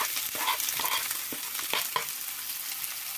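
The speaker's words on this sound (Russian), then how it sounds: "Чищу 1-2 луковицы и обжариваю на сковороде." One or two onions fry in a skillet, producing a steady sizzling hiss broken by several sharp scraping stirs near the start.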